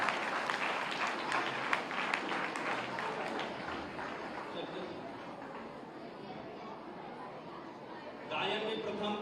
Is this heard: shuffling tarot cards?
no